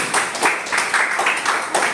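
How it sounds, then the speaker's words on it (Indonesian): Classroom applause for a student during a micro-teaching session, with a short burst of rhythmic group clapping that rises and falls several times. "tepuk tangan dulu untuk Jelek"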